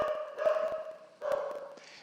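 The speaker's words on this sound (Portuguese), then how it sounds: "tem um cachorro latindo aí na rua" A dog out in the street barks a few times, faint and distant, in short bursts over a steady background hum.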